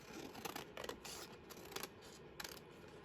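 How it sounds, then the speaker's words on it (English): Scissors cutting through thick paper close by and quietly, a handful of crisp snipping strokes spaced unevenly over a few seconds with no talk. "Let me just grab a pair of scissors."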